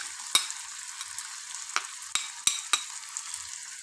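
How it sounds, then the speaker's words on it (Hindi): Beaten eggs hit a hot frying pan for an omelette, giving a steady high sizzle with several sharp scraping clicks of a utensil against the pan, close and fairly quiet, without talk. "अब हम अंडे को भी फ्राई पैन में डाल देंगे"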